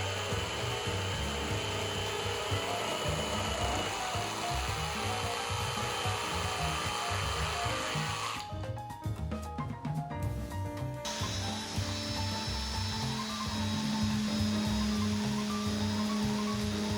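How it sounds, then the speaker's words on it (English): Plywood corners are rounded over with a jigsaw and an orbital sander, giving a continuous, close power-tool drone with a rough rubbing rasp. A brief change in texture comes midway, then the steady grinding hum resumes. "I rounded over the corners with a jigsaw and orbital sander for clean edges"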